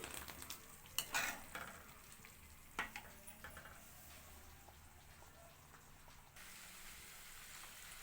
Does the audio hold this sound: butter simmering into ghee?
yes